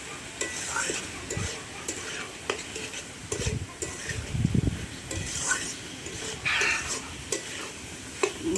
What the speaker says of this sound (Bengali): ভালো করে মশলার সাথে আলু পটল মিশিয়ে নেবো।